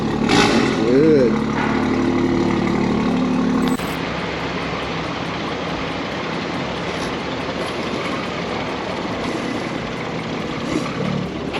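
BMW M240i engine while driving, a steady loud drone with rising tonal whine in the first few seconds, then a constant cabin rumble and road noise.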